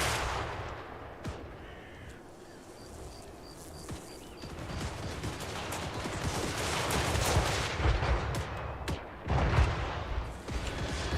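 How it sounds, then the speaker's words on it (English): Artillery batteries firing during a Warhammer III Empire battle, with repeated booming shots and crackling gunfire spread across a dense, continuous battle din, bursts thickening toward the end. "the artillery going ham"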